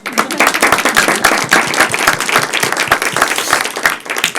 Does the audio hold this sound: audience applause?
yes